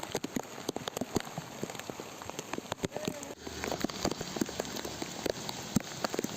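Heavy rain falls after a storm in Gujarat, a steady wash of drops pattering and splattering on surfaces nearby, with irregular louder drips throughout and no voices.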